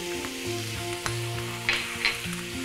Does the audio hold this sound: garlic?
yes